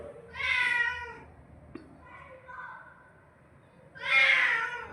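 A house cat gives two drawn-out meows, one near the start and a louder one near the end, with a soft human voice and a small knock in between.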